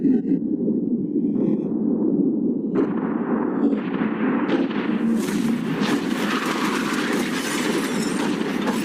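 A yacht is blown up in a sustained, loud explosion: a heavy roaring rumble that swells and grows harsher as debris and blast noise spread, continuous for several seconds.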